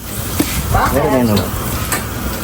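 Oil sizzles and crackles steadily in a pan, with a brief stirring scrape partway through, close by.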